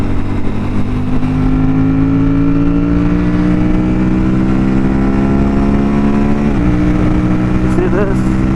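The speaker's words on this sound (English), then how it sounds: "you can keep the throttle open, not use the clutch, and upshift" Aprilia RS457 motorcycle engine pulling hard under open throttle with quickshifter upshifts and no clutch, a loud, steady droning growl whose pitch climbs, then briefly dips at each gear change, close by for the whole stretch.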